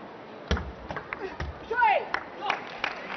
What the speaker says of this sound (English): The crowd appreciating.